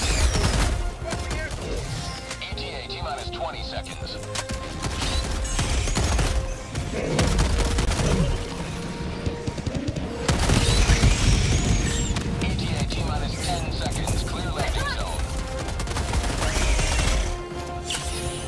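Gunfire in the co-op shooter Helldivers 2 on a high difficulty mission: dense, continuous bursts of shots and booming impacts layered with game effects. A player talks occasionally over the din.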